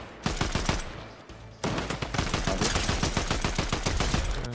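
Fortnite gunfire pops in quick repeated shots. A short burst is followed by a brief gap, then longer sustained automatic fire, loud and close.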